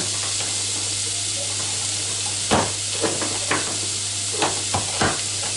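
Chopped onions sizzle after going into a cooking pot, giving a constant close hiss over a low electrical hum, with a few scraping stirs and clinks in the second half.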